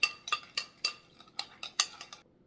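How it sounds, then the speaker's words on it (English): A utensil stirs a vegan cheeseburger slider mixture in a bowl, giving a quick run of about ten crisp clicks and scrapes that fade toward the end, close up with no talking. "All right, let's go ahead and mix it."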